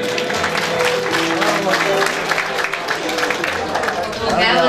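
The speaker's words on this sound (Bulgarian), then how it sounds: "Аплодисменти!" Guests at a civil wedding ceremony break into applause, a dense burst of clapping mixed with crowd chatter and some voices, staying fairly loud with a brief dip before swelling again at the end.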